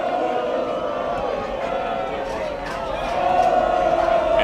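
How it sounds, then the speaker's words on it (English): Crowd at a high school varsity football tournament game getting riled up, a broad roar of cheering voices that swells toward the end, with an announcer talking over it. "as the crowd is getting riled up"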